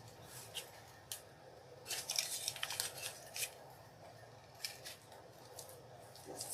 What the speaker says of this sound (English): Make sure we cut the tag off.